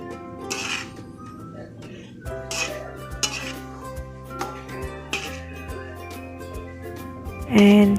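Chicken cubes and black pepper stirred into bihon noodles in a pan, giving several clinking, scraping strokes of a utensil against the pan at an uneven rhythm, with background music playing.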